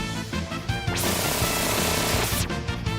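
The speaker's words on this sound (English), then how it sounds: "I just killed him with a chainsaw." A chainsaw roars during a kill in the Final Fantasy VI video game, one loud, harsh burst of about a second and a half set against busy game music and effects.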